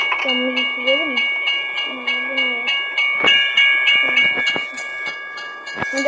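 A train rolls past in a truck driving video game, with rhythmic clickety-clack from the wheels and sustained tonal whistling, loud and close, swelling toward the end.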